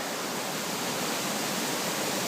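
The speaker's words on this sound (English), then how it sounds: "You can probably hear the water back in behind me," A mountain stream near a trailhead flows nearby as a constant, even wash of rushing water with no other sounds.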